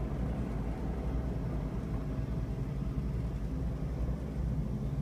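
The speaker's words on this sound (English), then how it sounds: "we can hear a helicopter" A low, steady helicopter drone rumbles continuously, a heavy whirring roar that holds level without fading in or out.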